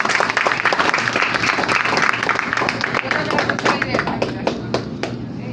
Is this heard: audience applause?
yes